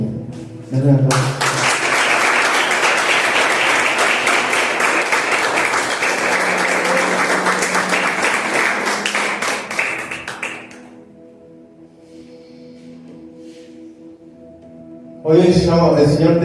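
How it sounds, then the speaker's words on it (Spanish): Congregation at a Spanish-language church service bursts into loud, dense applause that holds for about ten seconds, then fades into quieter sound before a voice returns near the end. "Dale un aplauso, Señor."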